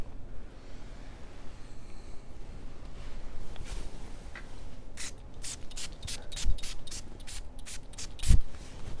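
Several quick, hissy bursts of Hermès Violette Volynka perfume spray come in a rapid series near the end, preceded by quiet rustling and handling noises.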